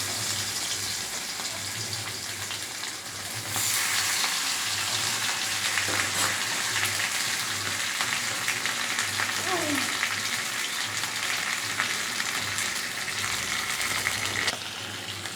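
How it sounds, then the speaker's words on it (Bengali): Small hilsa fish coated in salt and turmeric frying in hot mustard oil, a loud continuous sizzle that jumps up as the pieces go in, with a low hum and brief clatter beneath. "এবার আমি মাছগুলো দিয়ে নিচ্ছি, নুন হলুদ রেখে মাখিয়ে রাখার মাছ।"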